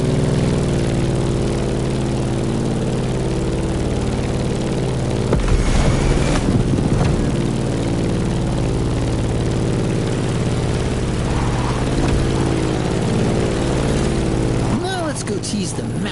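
A propeller plane's engine drones steadily and loud, a continuous harmonic hum that holds throughout, with a brief burst of clatter partway through and faint sounds near the end.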